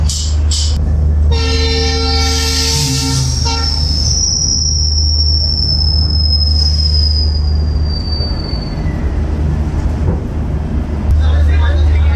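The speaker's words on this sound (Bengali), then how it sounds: "Tourist special train. Siliguri junction থেকে 7:42 ছাড়লো।" A tourist special train with a Vistadome coach pulls out of Siliguri Junction, its horn sounding in loud layered blasts before a long, piercing wheel squeal drags on over a heavy rumble, with voices mixed in.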